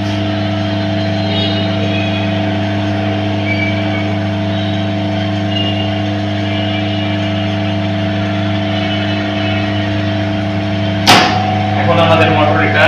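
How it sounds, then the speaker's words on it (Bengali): An industrial motor runs in star connection during a star-delta start under S7-200 PLC control, giving a loud, steady electrical hum. A sharp click and clatter break in near the end. "এখন আমাদের মোটর মেইনলি স্টারে করছে।"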